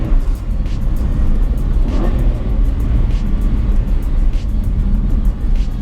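An Aston Martin V8 Vantage's engine drones loud and close from inside the cabin, a steady deep rumble held at constant volume with no talking.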